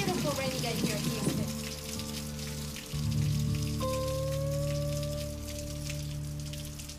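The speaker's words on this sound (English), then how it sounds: "it was just a deluge. And so I just went outside, stuck my feet out, and just recorded the rain" Heavy rain pours down outdoors in Houston, a dense steady hiss of drops hitting surfaces, loud and close, with a low tonal hum in the background.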